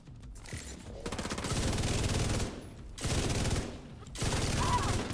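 A light machine gun blazes in a video game, three long sustained bursts of rapid automatic fire separated by brief pauses, loud and close.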